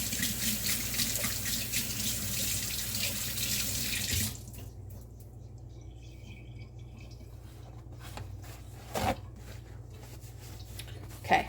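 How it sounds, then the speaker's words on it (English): Tap water runs steadily into a kitchen sink as hands are washed during cake baking, a loud continuous rush that stops abruptly after about four seconds, leaving quiet room tone with a few soft knocks. "let me wash my hands real quick"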